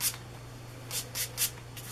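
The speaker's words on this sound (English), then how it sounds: "And I spray that all over my hair." Four quick, close spritzes of a heat protectant volume spray misted onto hair: one at the start, then three in fast succession about a second later, with near silence between them.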